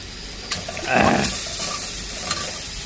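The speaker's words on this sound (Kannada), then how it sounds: "ಈರುಳ್ಳಿ ಫ್ರೈ ಆಯಿತು ಈಗ ಟೊಮಟೊ ಹಾಕೋಣ" Onions frying in a pan for a home-cooked dish, giving a steady close sizzle with a brief swell of stirring in the middle and a couple of light utensil taps.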